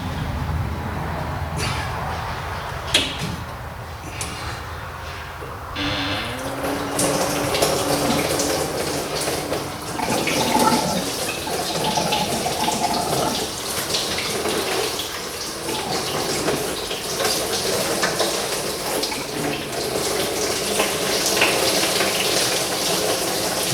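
Coolant gushing out of the pulled top radiator hose of an EH Holden into a container and splashing onto the floor, a continuous watery pour with a few clunks early on.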